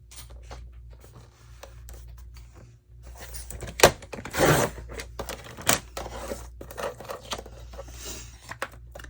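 Paper is cut for a handmade craft pocket with a lid, giving close, intermittent snips and papery rustles in short bursts with quiet pauses between.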